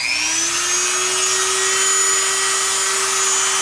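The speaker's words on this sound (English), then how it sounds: "Hear me through this drill." A Dremel rotary tool runs continuously at high speed with a steady whine that rises slightly in pitch at the start, working during an Atwater Kent Model 708 radio rebuild; no talking.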